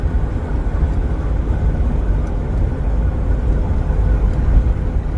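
Steady low engine and road rumble inside a moving truck cab, a continuous droning hum with no talking.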